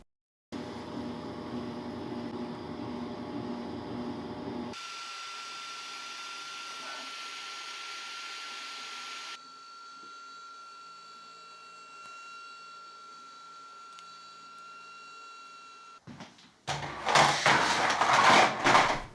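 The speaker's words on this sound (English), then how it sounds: "sent that to the 3D printer" A 3D printer prints a snug-fitting plug part for an MR-1 linear rail cover, giving off a steady motor hum with a sustained whine that shifts between passes and ends in a louder, busier burst of movement.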